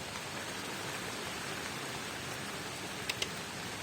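Steady rain falling on an outdoor spot under a tree, a continuous even hiss with a couple of faint brief drips near the end, no voices.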